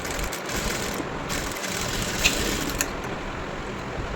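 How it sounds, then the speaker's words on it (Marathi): A sewing machine stitches a blouse seam with a quiet, steady mechanical whir and faint ticking, broken by a couple of brief dips as the stitching pauses. "तर इथे मी आता शिलाई देऊन देते"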